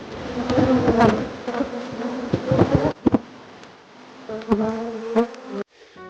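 Honey bees buzzing around a hive on a rural homestead, loud close drones rising and swooping past in repeated bursts, with a few knocks and brief gaps between passes.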